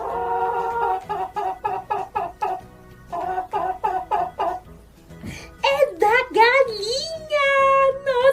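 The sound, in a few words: chicken clucking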